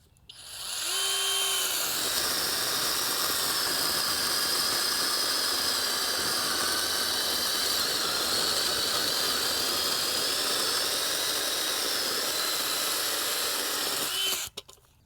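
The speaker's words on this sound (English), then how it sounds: "Not bad for a 6-inch chainsaw." A small 6-inch electric Skil pruning chainsaw runs continuously at a steady high-pitched whine for about 13 seconds, spinning up at the start and cutting off at the end, loud and close with no talk.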